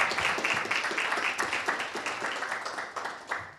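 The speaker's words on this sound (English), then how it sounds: "Another applause" A small audience at a cybersecurity meetup claps after a company presentation, giving a modest patter of hands with individual claps audible, fairly near and thinning out toward the end.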